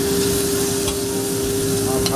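Prawns and fish frying in a pan of hot oil, a steady loud sizzle with a constant hum and occasional stirring scrapes, no voices.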